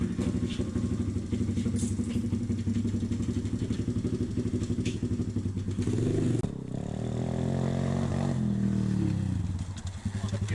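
A pit bike engine runs steadily and loudly nearby with a rough, gurgling note, then briefly cuts out and picks back up with uneven revving toward the end.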